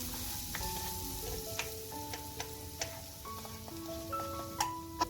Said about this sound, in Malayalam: നമ്മുടെ ഇഞ്ചി വെളുത്തുള്ളി എണ്ണയിൽ കിടന്ന് നന്നായിട്ട് അത് മൂത്ത് വന്നിട്ടുണ്ട്